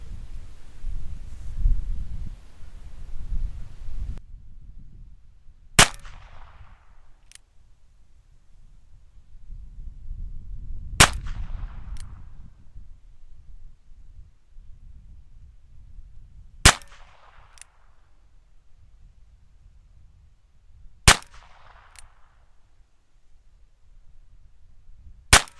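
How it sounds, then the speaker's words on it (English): A Ruger Wrangler revolver fires single shots at a target seven yards away, each a sharp loud crack spaced several seconds apart, with outdoor wind rumbling between them. "We're gonna see if we can put 6 rounds on the card from 7 yards"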